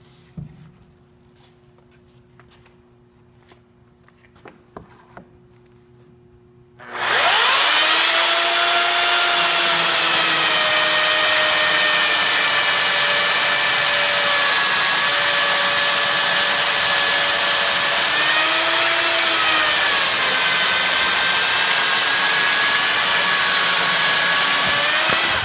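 A chainsaw fitted with a clamp-on pivoting guide cuts the peak of a timber rafter for post and beam framing, starting after a few quiet seconds of handling and then holding a loud, steady whine that dips slightly partway through.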